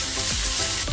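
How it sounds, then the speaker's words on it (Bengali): Polao rice tossed with fried onions in a hot pan, a dense close sizzle with quick scraping stirs over a brief moment. "এটা ভালো করে 3 থেকে 4 মিনিট আমি ভেজে নেব।"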